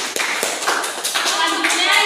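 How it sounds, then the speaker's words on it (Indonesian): A class of students claps for a classmate, a short burst of scattered hand claps mixed with voices, lasting about two seconds. "Tepuk tangan untuk Mbak Iva."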